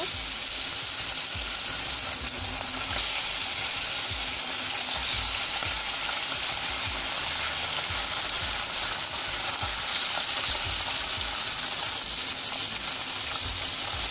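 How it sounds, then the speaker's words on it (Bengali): Bele fish sizzle loudly in hot oil, a dense continuous frying crackle with low bubbling underneath that holds steady throughout, with no voices. "তেল গরম হয়ে গেছে, এখন আমি মাছগুলো আস্তে আস্তে করে দিয়ে দিব।"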